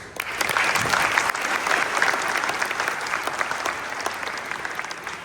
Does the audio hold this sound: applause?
yes